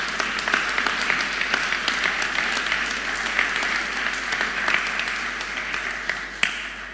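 An audience at an award ceremony gives sustained, fairly loud applause, dense even clapping that continues for around seven seconds and ends with a couple of louder individual claps.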